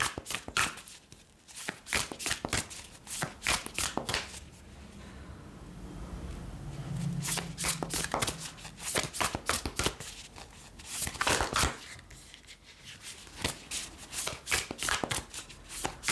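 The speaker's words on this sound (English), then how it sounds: "I'm going to get some of these Kyle Gray cards here." Kyle Gray oracle cards are shuffled by hand during a reading, giving repeated rapid riffling bursts with short pauses between, close and fairly loud, with no talking.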